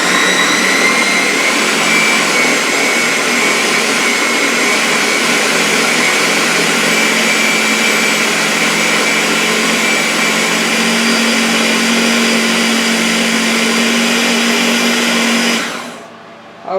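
A Ninja blender runs at its highest boost speed through thick coconut cookie dough, a loud, steady high-pitched whine with a continuous motor drone that holds for many seconds, then cuts off abruptly.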